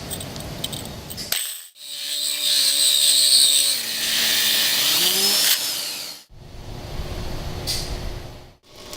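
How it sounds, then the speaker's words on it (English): A core drilling machine runs with its motor whining steadily, the pitch sliding as the bit engages, between abrupt stops and restarts. "And begin drilling."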